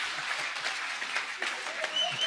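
Studio audience at a comedy talk show applauding as actor Sanjay Dutt is welcomed, a dense sustained burst of clapping with scattered bright claps and cheers throughout.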